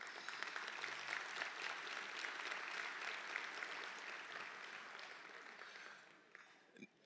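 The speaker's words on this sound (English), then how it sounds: "Can you give yourself a round of applause?" A large conference audience applauds at a trade show lunch, a dense, sustained wash of clapping that holds steady for several seconds before thinning out and fading near the end.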